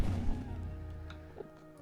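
End crystal blowing up in Minecraft during the Ender Dragon fight, a deep boom at the start that decays into a fading rumble, fairly quiet and alone.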